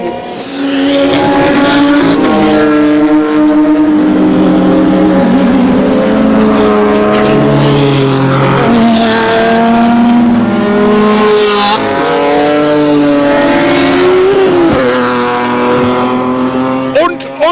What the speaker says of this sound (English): So the Hitlerwagen must drive very fast to catch up with the...